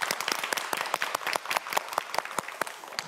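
A television quiz show's studio audience claps for a contestant, the crisp individual claps standing out sharply, quick and rhythmic, through a short burst of moderately loud applause.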